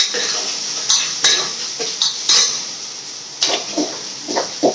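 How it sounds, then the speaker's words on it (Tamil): Crushed garlic and small shallots sauté in a pan, a close sizzle punctuated by repeated scraping and clinking strokes of a utensil stirring against the metal. "இது நசுக்கி போட போகிறோம் பூண்டு சின்ன வெங்காயம் இப்போ இது மட்டும் போட்டு வதங்க"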